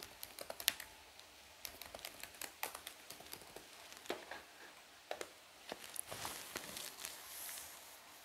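Someone types a password on a computer keyboard in quiet, irregular bursts of light clicking keystrokes, close and soft, with a few sharper taps.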